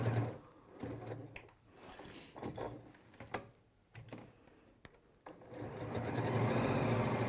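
Sewing machine stitching in a sewing studio, a rapid mechanical whirr that builds to a steady run near the end, heard close, with scattered clatter earlier.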